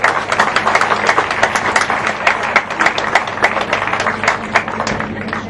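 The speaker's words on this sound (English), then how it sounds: "a big round of applause for the committee and the team" Crowd at a Relay for Life event in Toomevara applauds the committee and team, loud sustained clapping from many hands throughout, close and dense.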